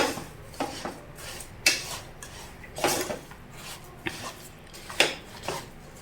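A metal spoon stirs jaggery and sugar in a cooking pot, making intermittent scraping and clinking strokes against the pot, fairly close and moderately loud, with no talking over it.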